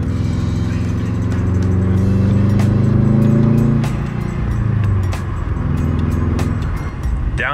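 A Subaru WRX/STI with a Cobb pitch stop mount drives on the road, heard from inside as a loud, steady engine drone that rises and falls in pitch through gear changes.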